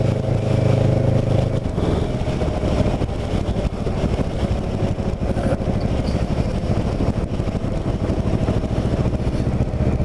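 A motorcycle cruising along a road on a clear day, steady engine drone with heavy wind rush across the microphone throughout, no talking.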